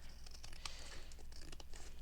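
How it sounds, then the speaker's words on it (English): A paper envelope pocket for a junk journal is cut open, giving a faint, close crinkling and tearing rustle with light scratchy ticks over two seconds. "then you simply cut this pocket open"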